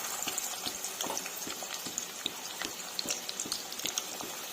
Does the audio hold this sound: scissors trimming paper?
no